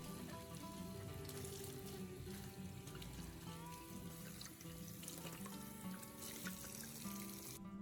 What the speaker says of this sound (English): rinse the corn thoroughly under running clean water to remove any remaining salt